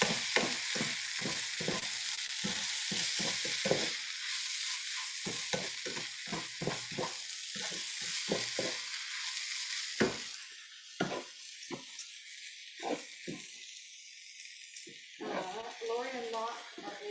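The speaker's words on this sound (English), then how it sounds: "You're gonna stir fry this for a couple of minutes" Biryani ingredients with rice stir-fried in a hot pan, a steady loud sizzle broken by repeated scraping stir strokes, with a voice talking over parts of it.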